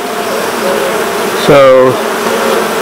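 Honeybees buzz steadily at the hive, a close droning hum with one louder, nearer pass that rises and fades after the midpoint; someone says a single word.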